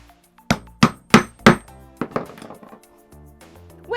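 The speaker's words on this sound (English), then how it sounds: "When in doubt, hammer it out." Hardware being hammered on custom high heel roller skates: four loud, evenly spaced metallic strikes, then a run of lighter, quicker taps, close and with no talk.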